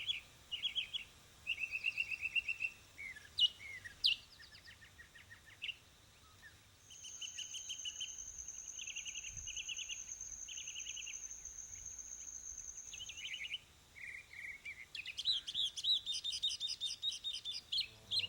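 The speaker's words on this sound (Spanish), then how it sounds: "el virtuoso canto del sensontle, el pájaro de los 400 cantos" A mockingbird sings a string of varied chirps and whistled phrases, fairly faint and outdoors in a Mexican desert, with a steady insect buzz in the middle.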